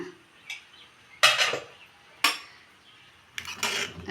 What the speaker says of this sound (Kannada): ಈಗ ಕ್ಯಾಪ್ ಓಪನ್ ಮಾಡ್ಕೊಂಡು ಯಾವ ಥರ ಬಂದಿದೆ ನೋಡೋಣ